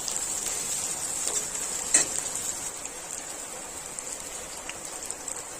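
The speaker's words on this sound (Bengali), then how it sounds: "পাঁচ ফোড়ন তেজপাতা শুকনো লঙ্কা পেঁয়াজ কাঁচা লঙ্কা সব ভালোভাবে ভেজে নেব" Onions, dried and green chillies, bay leaf and five-spice frying in oil for a Bengali village-style chorchori, a steady close hiss of sizzling with a few light stirring clicks, no voices.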